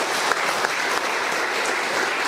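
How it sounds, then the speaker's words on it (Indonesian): Audience applause at a ceremony where nine women receive the religious habit of the SSpS congregation in West Flores, steady dense clapping, close and loud throughout. "Luar biasa, kita tepuk tangan."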